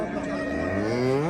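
A cow at a livestock market gives a single long, loud, close moo that holds steady and rises slightly toward the end, with no talking over it.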